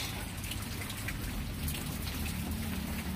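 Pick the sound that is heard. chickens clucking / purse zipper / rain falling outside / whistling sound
rain falling outside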